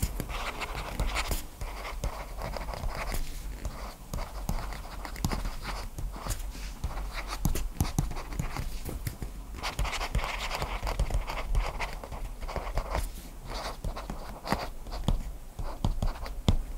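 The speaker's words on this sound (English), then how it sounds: "The nibs feel great in combination with the screen surface that's here, and basically it feels and it sounds paper-like." A stylus pen scratches and scribbles across the paper-like e-ink screen of a Mobiscribe Origin tablet, close and continuous, with dense strokes and brief pauses throughout.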